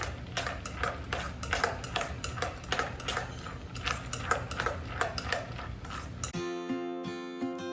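A spoon, the same one used to gut a pumpkin, stirs a pumpkin mixture in a bowl until frothy, with steady close scraping and clinking against the bowl that ends abruptly near the end, followed by a few faint ringing tones.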